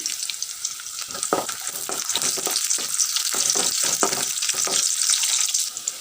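Onion, two bay leaves and three dried chillies frying in a pan with a bright, steady sizzle and soft stirring scrapes at irregular intervals, heard close with no talk.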